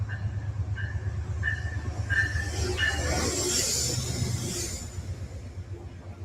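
A train passes at night, a fairly faint, continuous rolling rumble with repeated squeals and a rising hiss as it goes by, with no voices.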